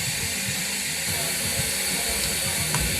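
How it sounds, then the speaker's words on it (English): An electric pump is switched on during a homebrew boil-and-chill session, pumping brewing liquid with a continuous hissing, rushing hum and a faint low drone. A couple of small clicks sit on top of the steady sound. "I'm going to flip on the pump."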